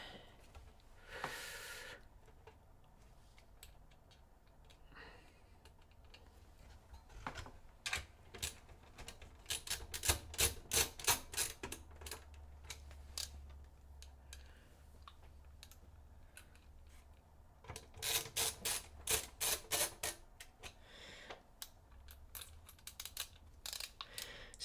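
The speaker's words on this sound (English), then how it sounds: "And get the power supply screws." Screws being driven into a PC power supply during a desktop build, a rapid series of close ratcheting clicks from a screwdriver in several bursts separated by short pauses, with no talk.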